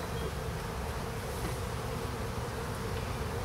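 Honey bees buzz in a dense, steady drone during an early spring hive inspection, a thick swarm-like hum close to the open hive with no talking.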